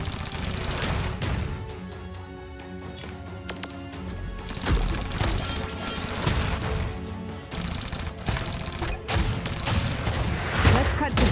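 A grenade blast in the video game Iron Marines, sounding as loud booms among dense, continuous gunfire and battle noise, with game voices speaking over the fighting.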